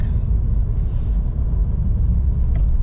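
A vehicle engine runs after starting, a loud, steady low rumble heard close up, with the car in third gear and settling toward idle.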